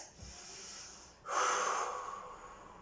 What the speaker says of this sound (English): take a deep breath in, deep breath out